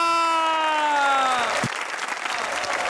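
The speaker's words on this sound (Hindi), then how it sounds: "तो तालियों की ऊंची रहेगी आवाज क्योंकि मैं बुलाने जा रहा हूं यासिर एंड दानि" Loud audience applause on a Pakistani comedy talk show set in Lahore, a dense wash of clapping that swells as a sustained musical tone glides down and stops, then continues steadily alone.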